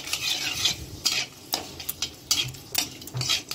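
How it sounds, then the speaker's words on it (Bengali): Bay leaf and dried chilli sizzle in hot oil in a thin, well-worn wok, with crackling bursts and repeated close metal scraping as a utensil stirs against the pan; no talk. "এখানে দেখো কড়াইয়ে তেলও বসিয়ে দিয়েছি, আর এখানে দেখো তেজপাতা শুকনো লঙ্কাও দিয়ে দিলাম"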